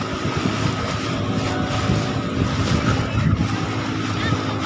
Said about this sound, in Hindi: काफी शानदार लहरें चलती हुई है